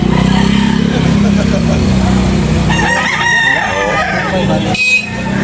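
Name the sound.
rooster crowing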